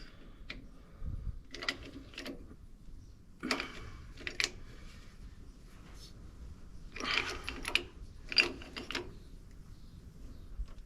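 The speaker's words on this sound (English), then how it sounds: "Hydraulic pullers. This right here will pull it off, no doubts about it." A Harbor Freight hydraulic puller works against a stuck part: irregular clusters of ratcheting clicks and metallic creaks come in short bursts, close and fairly quiet, with gaps between.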